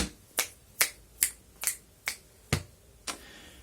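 Seven crisp finger clicks ring out one by one in a body percussion rhythm, close and dry with short gaps between them and nothing else heard.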